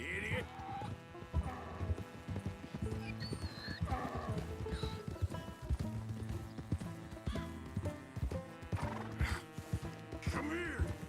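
A donkey in the Red Dead Redemption 2 video game, its hooves clip-clopping steadily with whinny-like calls, all over a dense bed of game music and ambience.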